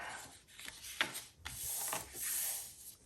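Paper being folded and creased by hand into a coin envelope, with several soft rubbing swipes and brief crinkles close up, no voices.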